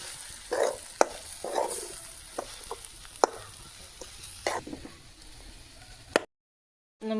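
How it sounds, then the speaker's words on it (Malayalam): Onion flower thoran stirred in a pan on an outdoor stove in a yard, giving repeated scraping strokes and sharp clinks under a steady frying sizzle, close and moderately loud, with no talking. "ഇത് മിക്സായി ഇതിൽ വെന്ത് വരുന്നത് വരെ ഞങ്ങളിത് ഇളക്കി കൊടുക്കുക."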